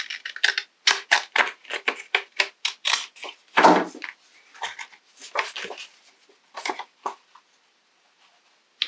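Scissors snipping through paper while altering an envelope for a journal craft project: a quick series of sharp, close cuts in bursts, then a pause and a few final snips.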